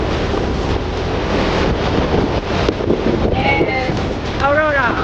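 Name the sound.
strong ocean waves at Baler beach, Aurora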